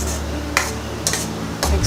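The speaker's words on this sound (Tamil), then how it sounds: "நல்லா மிக்ஸ் பண்ணிக்கோங்க." Snake gourd kootu is stirred in a cooking pan, giving a few soft scraping and clinking strokes of a spoon against the metal, close by over a low background hum.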